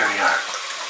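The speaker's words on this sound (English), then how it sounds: "I'm running that water flow cold right through the hose." Cold water gushes steadily from a tap through a hose for a CPAP cleaner, a loud close continuous rush that eases slightly toward the end.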